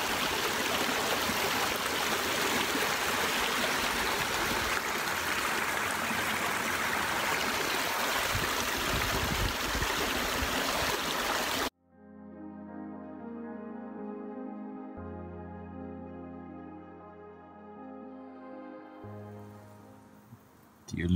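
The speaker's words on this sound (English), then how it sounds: "I'm gonna enjoy my 11sies and the sounds of this brook." A brook flowing in New Zealand, with a steady broadband rush and trickle of running water for about half the time before it cuts abruptly to a different, tonal sound with no water heard.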